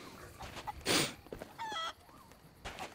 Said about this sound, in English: Over here, I'm grabbing chickens.